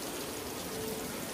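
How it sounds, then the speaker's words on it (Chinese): Heavy rain pours outdoors on a Shenzhen street as a steady, dense hiss with no breaks. "哇，落好大雨啊"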